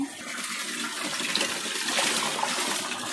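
Water splashes and pours steadily while a pet dog is bathed, a continuous close rushing wash lasting throughout with no talk.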